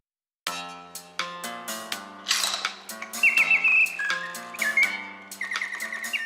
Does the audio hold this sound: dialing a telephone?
no